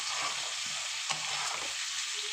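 Taro and potato curry fries in a pan with a bright, steady sizzle close by, while a utensil stirs through it with soft scraping strokes.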